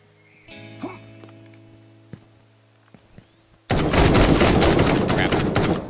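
Shotgun fire in an indie Uncharted-style action game made by one developer: after a quiet stretch of faint game tones, a loud, dense barrage of blasts erupts and continues without pause to the end.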